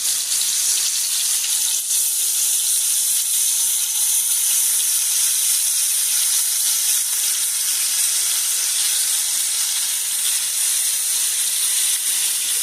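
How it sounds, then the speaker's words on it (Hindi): Fish frying in a pan for a very spicy, hot fish dish gives a loud, steady, close sizzle and hiss that runs unbroken for several seconds, with no talking. "तो अब हम इसमें बिस्मिल्लाहिर्रहमानिर्रहीम पढ़कर फिश रखते हैं और इसको फ्राई करते हैं"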